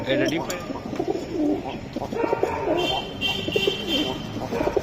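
Pigeons coo in low, throaty repeated calls close by, with a person talking over them throughout.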